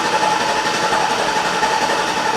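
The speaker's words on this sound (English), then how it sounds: "we're going to crank it over, see if we have RPM signal" The engine of a Chevy Tahoe with a crank-no-start fault is cranked over and does not fire. It makes a steady, loud, whirring churn for a couple of seconds, with no talking.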